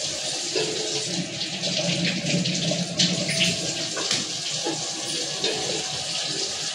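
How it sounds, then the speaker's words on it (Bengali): Four eggs are rinsed under a running kitchen tap, giving a steady, close splash and hiss of water that holds for the whole stretch with no voices. "এবার 4টে ডিম ধুয়ে আমি"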